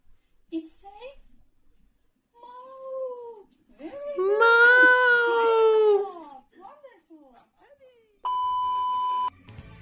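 A voice makes a series of drawn-out meows in imitation of a cat, rising and falling, followed by a steady electronic beep.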